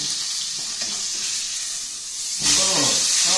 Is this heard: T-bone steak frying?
yes